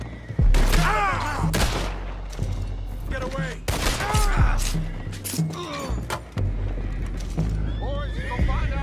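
Several horses neigh and whinny loudly in Red Dead Redemption 2, with hoof clip-clops and bursts of gunfire mixed in, under shouted speech.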